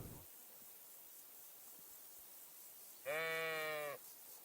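A single sheep in the video game Kingdom Come: Deliverance 2 lets out one clear, nasal bleat lasting about a second, standing alone over faint background hiss.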